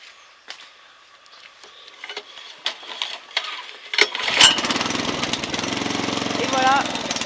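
Kubota T550 ride-on mower engine cranks with a few clicks and knocks, then catches and settles into a steady, loud, close running rumble that continues to the end.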